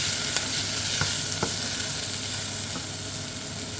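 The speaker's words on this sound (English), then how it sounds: "Give that a little stirry whirly once again." Sweated leeks with bay leaf and thyme being stirred in a soup pot: a steady soft sizzle with a few light scraping strokes of the spoon, close up and without speech.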